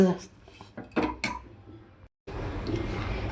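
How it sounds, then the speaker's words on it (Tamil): A spoon scrapes and clinks against a metal pan as makhana and sesame are stirred, with a brief silent gap before stirring continues. "இப்போ எல்லும் மிக்ஸ் பண்ணிட்டேன்"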